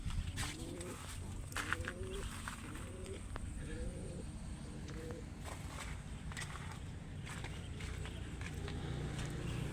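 Pigeons coo in a series of soft repeated calls, several close rolling coos in a row, over a constant low background hum and faint shuffling.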